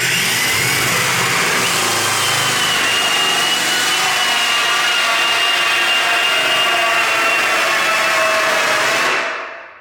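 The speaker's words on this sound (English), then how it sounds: "We've got a 54mm hole saw bit here and just drill through the hole." A power drill with a 54mm hole saw whines loudly and continuously as it bores through a door, holding a steady pitch for about nine seconds before cutting off.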